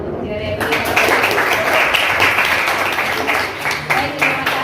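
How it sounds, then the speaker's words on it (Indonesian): Classroom applause, dense continuous clapping from a group of students lasting several seconds, close and fairly loud, with voices mixed in. "Oke, jadi tepuk tangan untuk Jeremy."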